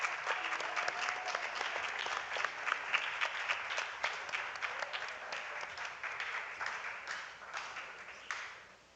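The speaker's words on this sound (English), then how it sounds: "A round of applause for all our participants on stage" A school primary quiz audience gives a sustained round of clapping for participants on stage, dense and steady for several seconds before tapering off near the end.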